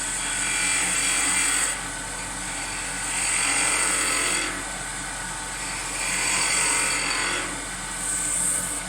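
A woodturning tool takes a planing cut on wood spinning on a lathe, giving repeated hissing, shaving bursts of a second or two each. They rise and fall in a regular rhythm over a steady motor hum, heard up close.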